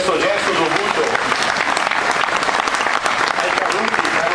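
An outdoor crowd at an Alpini festival in Mornico al Serio applauds a tribute to the war fallen, loud continuous clapping throughout with some voices and crowd murmur mixed in.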